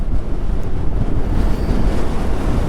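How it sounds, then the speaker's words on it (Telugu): Strong wind roars and buffets the microphone on a motorcycle ride over the high, sandy Umling La pass on a Hero Xpulse 200. It is a loud, continuous rush with no voices. "అప్పుడే విండ్ ఎక్కువ వస్తుంది తక్కువ వస్తుంది"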